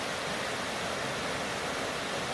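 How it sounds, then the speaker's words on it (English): A North Carolina waterfall roars steadily, heavy water pouring down heard from near its base as a dense, unbroken rush with no voices over it. "A lot of water coming over that."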